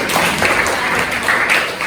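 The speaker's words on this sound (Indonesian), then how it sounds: "Oke, tepuk tangan semuanya." Classroom applause from students, a steady dense patter of many hands clapping together throughout, fairly loud and close with no pause.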